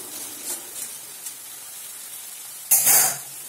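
Bell peppers drop into a hot pan of cooked tomatoes with a sudden loud sizzling hiss, following a few faint quiet ticks.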